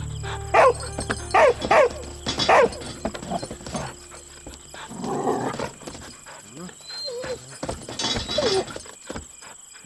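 A dog barks several times in short sharp bursts early on, with a voice speaking in between and a few more animal sounds later.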